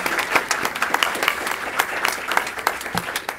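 An audience at a women's health forum applauds in a brief, dense burst of clapping. The sound is close and even, with scattered sharper claps throughout.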